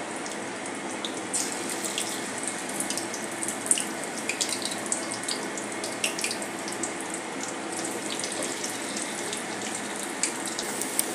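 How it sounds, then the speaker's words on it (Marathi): Cauliflower Manchurian fritters frying in oil on a medium flame, a steady broadband sizzle with scattered crackles and pops running continuously at moderate, even loudness. "मीडियम फ्लेमवर आपल्याला तळायचे आहे।"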